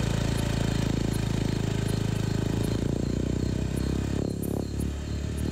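A motorcycle engine drones steadily and loud throughout while riding along a road at dusk near a forested area, with a low rumbling tone and slight rattle, no talking.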